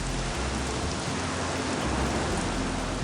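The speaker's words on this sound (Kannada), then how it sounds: "ಅಯ್ಯೋ, ಮಳೆ ಯಾಕೆ ಬರ್ತಿದೆ?" Steady rain falls in a continuous, even hiss of dense drops, close and fairly loud throughout, with no voices.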